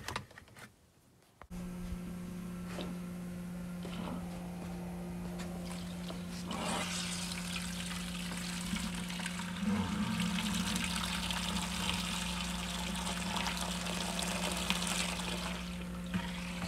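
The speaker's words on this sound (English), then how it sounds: "So my power runs through a relay to power my fuel pump and the controller." An electric fuel pump in a turbocharged BMW E46 build, switched on through a relay, pumping gasoline with a steady low hum and a continuous rushing, liquid flow that runs unbroken and fairly quiet after a brief click.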